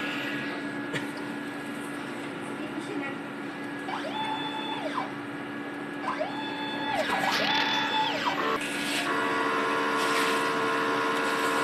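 DTF printer running a head clean cycle, with a steady machine hum and a few rising and falling motor whines as the print head carriage shifts back and forth, ending in louder mechanical running.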